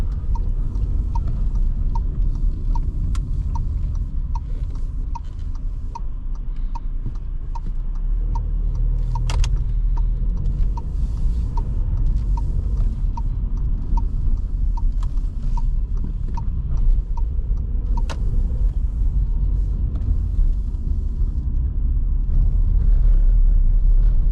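Interior of a 2023 Volkswagen T-Cross 1.0 TSI 110HP driving over a bumpy road: steady low cabin rumble with faint rattles and occasional knocks, continuous and fairly loud.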